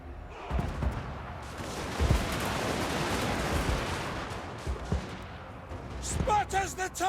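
Musket volleys from gun formations in a Total War: Warhammer 2 battle: rolling, crackling gunfire and distant booms over a dense battlefield din, with shouted voices near the end.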